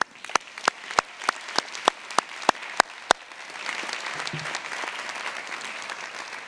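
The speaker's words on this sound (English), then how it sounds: "But a round of applause." Applause for keynote speakers at a Drexel University convocation: a few sharp, separate claps ring out evenly at first, then a broad wash of crowd applause builds and holds at moderate loudness.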